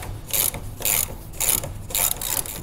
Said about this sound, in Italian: dato che devo vincere solo la resistenza della plastichina qua del dado autofilettante, vado di cricchetto.